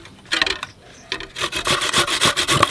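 Potatoes are rubbed against a hand grater in a home kitchen, giving a close, loud run of rapid rasping scrapes that speeds into a steady rhythmic grating.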